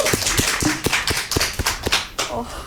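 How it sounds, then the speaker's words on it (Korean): A studio audience at a small televised concert gives brisk, sharp handclaps in a quick uneven rhythm, with a voice briefly audible underneath. "박수로 맞아주십시오."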